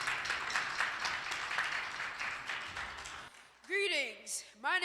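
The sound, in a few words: audience applause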